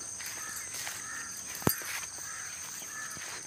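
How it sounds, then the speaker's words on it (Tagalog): Many birds calling outdoors, including crows, with caws and chirps over a steady insect-like hiss and one sharp knock, heard at a moderate distance. "Dami ng ibon ah."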